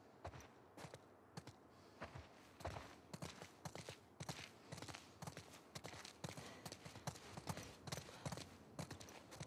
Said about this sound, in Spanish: A los caballos.